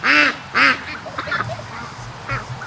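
Two loud, nasal quacks from ducks on a farm open the sequence, followed by softer scattered duck calls and a faint low murmur.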